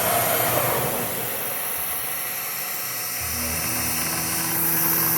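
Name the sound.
ShopSabre CNC router cutting plastic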